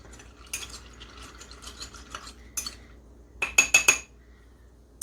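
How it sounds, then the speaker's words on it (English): A spoon stirs macaroni, water and salt in a mug, producing close, light scraping and a quick run of sharp ceramic clinks near the end. "give it a mix"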